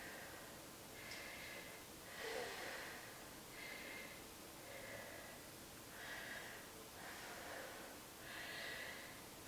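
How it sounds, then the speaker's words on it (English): Heavy breathing after cardio exercise comes as a series of rhythmic huffs and puffs, each breath a short airy gust at a steady pace, faint and close with no talk. "Okay, catching my breath."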